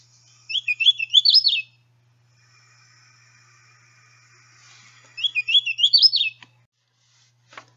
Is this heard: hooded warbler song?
yes